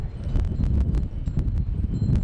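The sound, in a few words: strong wind on a cliff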